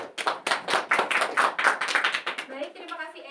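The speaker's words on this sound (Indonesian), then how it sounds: "beri tepuk tangan untuk Esya" Students in a high school classroom clap for a classmate's presentation, a short burst of quick, close, uneven handclaps from a small group that tapers off near the end.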